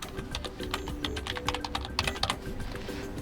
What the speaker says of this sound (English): So I'm gonna type it in on the computer and zoom it in so you can see it better.